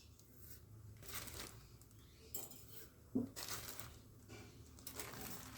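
Flax seeds spooned into water in a pot on the stove, a few faint metallic spoon taps and light clinks against the pot in a quiet kitchen.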